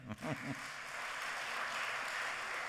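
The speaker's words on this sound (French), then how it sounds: "Voilà, on peut les applaudir" Congress attendees applaud the speakers at a closing session. A brief voice comes first, then a faint, distant wash of steady clapping fills the rest.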